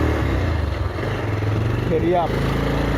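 A small motorbike engine labours at steady low revs while climbing an uphill road in the Dokhola hills of Dakshin Kamrup, Assam, droning continuously under nearby speech.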